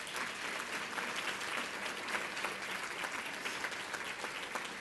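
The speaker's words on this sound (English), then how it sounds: "Round of applause for Staples." Sustained audience applause at an ad club women's event honoring sponsor Staples, dense clapping from a large crowd, steady and close.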